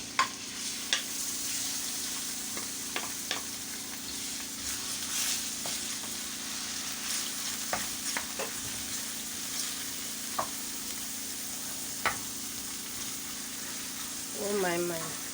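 Beef sizzling steadily in a hot pan for a homemade meat pie, with scattered clinks and scrapes of a utensil stirring the meat throughout.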